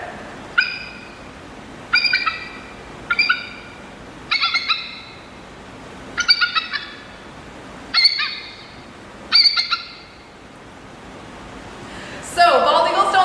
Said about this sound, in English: that is the sound that a red-tailed hawk makes